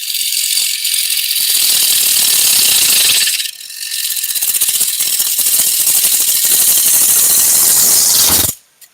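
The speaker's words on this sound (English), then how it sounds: "Are you stalling that lathe? It almost looks like it's slowing down." Wood lathe spinning while turning light pulls, a loud continuous rattling mechanical whir that dips briefly as it slows near stalling, then resumes before cutting off abruptly near the end.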